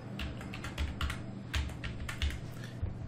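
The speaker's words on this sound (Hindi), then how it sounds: "आप गूगल में जाइए और गूगल में जाने के बाद आप यहाँ पर टाइप कीजिए फ्लिप बुक" Rapid, irregular clatter of keys on a computer keyboard as a Google search is typed, close and clear with no voices.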